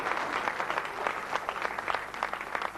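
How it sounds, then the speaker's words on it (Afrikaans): A church congregation claps hands for the Lord in a worship service, a moderate, steady mass of clapping with individual claps standing out, heard alone. "Kom ons gee die Here net 'n lieflike hande klap saam."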